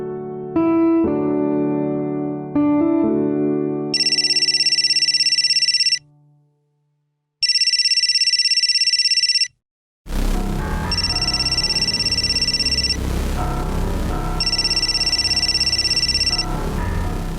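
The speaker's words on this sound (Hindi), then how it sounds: "सुधीर का फोन है क्या?" A telephone rings in repeated electronic bursts, first alone after a few musical notes, then continuing over music and background noise.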